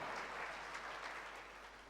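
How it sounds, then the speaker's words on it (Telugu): Congregation clapping in praise during a church sermon; continuous, even applause from many hands at a moderate distance, fairly quiet, with no voices over it. "చప్పట్లు కొట్టి దేవునికి స్తోత్రాలు చెల్లిద్దాం"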